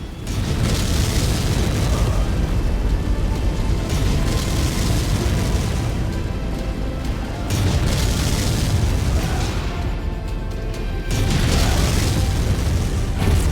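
Missile blasts from the MechWarrior 5 video game, with heavy rumbling booms that swell and fade in three or four long waves, loud and dense throughout, with no talk over them.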